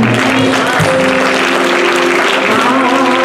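Church congregation clapping during a sermon, dense continuous applause filling the room, with faint voices mixed in beneath it.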